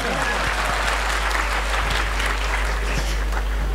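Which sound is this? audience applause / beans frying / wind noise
audience applause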